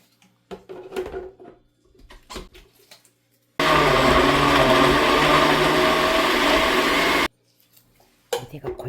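A blender roars steadily for several seconds, loud and close, grinding seasoning with frozen minced garlic for kkakdugi radish kimchi, between stretches of quiet kitchen clatter and handling noise.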